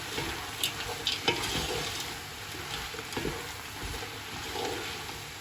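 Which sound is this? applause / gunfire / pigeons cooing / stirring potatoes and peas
stirring potatoes and peas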